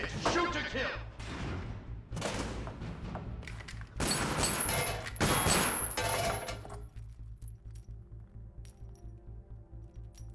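Armored units open fire in heavy, rapid volleys of booming, metallic gunshots, loud and close. Shouting voices come in over the barrage before it gives way to scattered clinks and thuds.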